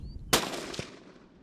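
A single loud rifle shot cracks out in the open on an African buffalo safari hunt, a sharp blast followed by a long decaying outdoor echo and a faint secondary thump.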